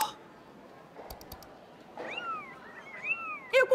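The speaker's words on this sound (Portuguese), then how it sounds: "Eu consigo ouvir vídeos de gatinho." A cartoon cat meowing in kitten videos, several rising and falling meows in quick succession in the second half, clear over quiet background with a few short clicks earlier.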